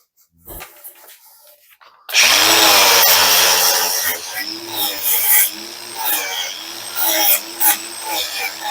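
A large angle grinder strips coating off metal, starting with a loud, sustained whine that wavers in pitch as the disc loads and eases against the surface, after a quieter stretch at the start.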